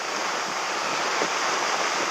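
Steady wind blows across a windsurfing spot in a continuous broadband rush with no gusts or breaks. It sounds like wind buffeting an outdoor microphone, and no one speaks.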